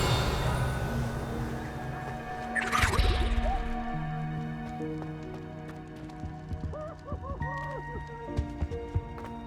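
A Revelio spell cast in Hogwarts Legacy gives a shimmering, rising whoosh with a bright sparkling sweep, then fades into soft, dripping, glassy magical tones over a steady game ambience.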